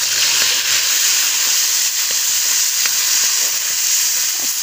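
Tomatoes go into a pan of browned onions, which sizzle and fry with a loud, steady hiss that stays constant, alone with no talk.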